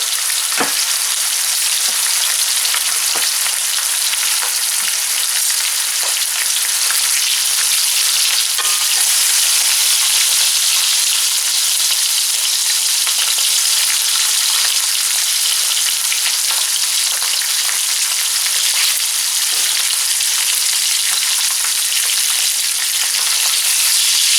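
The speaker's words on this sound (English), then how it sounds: "It's the fast frying pork, and it won't take long to fry." Continuous loud sizzling and crackling of pork chops frying in hot oil, steady throughout with occasional small pops.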